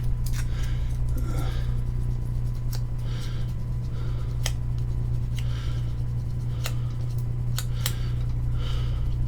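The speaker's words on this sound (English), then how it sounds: "I'm just gonna cut me off a little strip." Scraping, clicking cuts as a blade takes a thin strip off a bar of wax, scattered sharp ticks over a steady low electrical hum, close up and without talk.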